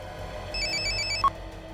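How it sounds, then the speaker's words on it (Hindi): A telephone rings from an unknown number in a police crime drama scene, a repeating electronic ring pattern heard clearly with a brief sharp tone near the end and no talk over it. "किसका फोन है? पता नहीं सर, कोई अननोन नंबर है सर।"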